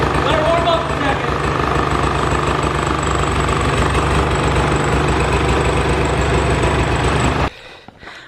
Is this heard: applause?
no